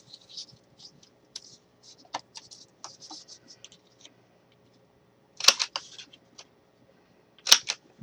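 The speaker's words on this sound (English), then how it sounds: "Let me cut another one of these with this." A paper piece for a faux toilet-paper-roll mini photo album is cut with a cutting tool, giving light scratchy strokes and a few sharp snaps near the end, close and fairly quiet, with no talking.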